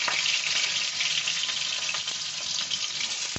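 Sliced ginger and garlic fry in hot white oil in a karahi, a dense, even sizzle with fine crackles running throughout at close range, no voices present.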